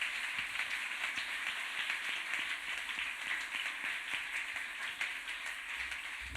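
A church congregation applauds loudly, a steady, dense wash of many hands clapping that lasts throughout, with faint scattered cheering mixed in.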